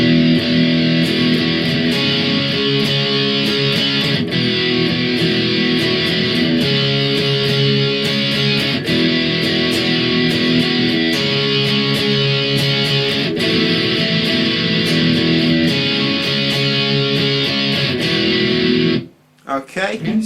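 Electric guitar plays the steady, driven chorus riff of a song with repeating chords, loud and continuous for nearly the whole stretch, then stops abruptly near the end.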